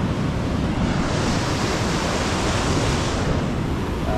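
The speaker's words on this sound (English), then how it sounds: "Definitely looks like there's some waves." Ocean waves breaking on a beach on a gloomy morning where surfers are out, a continuous roaring wash of surf with some wind, steady and fairly loud throughout.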